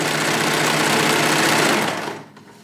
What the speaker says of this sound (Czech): Vidíte, že stroj jede jakoby pomaleji, protože dělá steh hustě.